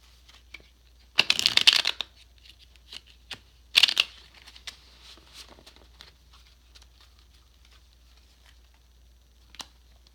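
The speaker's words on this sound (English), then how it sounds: "this Sorcerer's Tarot deck is still new to me, so it doesn't shuffle that easily" A new Sorcerer's Tarot card deck being shuffled by hand, two crisp riffling bursts up close, then a few faint taps and handling sounds in a quiet room.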